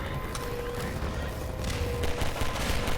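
Automated turrets firing in Half-Life 2, a continuous dense rattle of rapid gunfire filling the whole stretch, loud and unbroken with slight swells.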